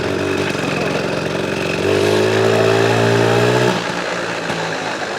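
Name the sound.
tractor engine revving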